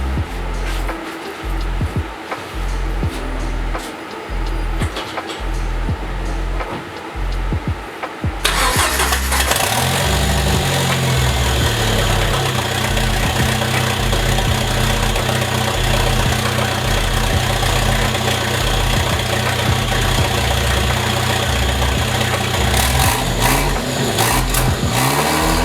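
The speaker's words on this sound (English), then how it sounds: "I'm gonna try to start it just the way it is, just to see if we get cool turbo noises" A Jeep Wrangler fitted with a turbo and no oil feed line cranks over in rapid, rhythmic churning bursts, catches, and settles into a loud, steady idle with a whistling turbo whine over the engine rumble.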